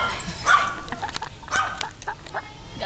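A pet dog barks and yips close by in quick, irregular bursts, its cries overlapping with faint voices.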